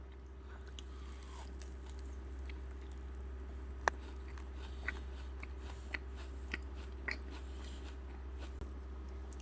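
A sakura-flavoured Dubai chewy cookie is bitten and chewed close up, with faint soft crunches and sticky squishes scattered over a steady low background hum.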